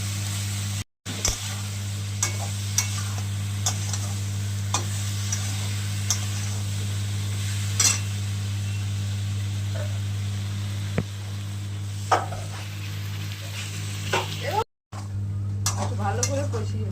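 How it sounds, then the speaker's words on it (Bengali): Turmeric and sugar sauté in a pan for a vegetarian kohlrabi and new potato curry. A steady sizzle carries close, regular stirring ticks over a low hum, with two brief dropouts. "হলুদ দিলাম, একটু চিনি দিলাম, দিয়ে একটু ভালো করে কষাবো।"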